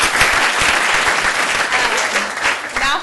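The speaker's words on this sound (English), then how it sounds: "Round of applause for them" An audience at a student and faculty literary reading applauds the student readers, close, loud and dense clapping with a few whoops, holding steady before trailing off.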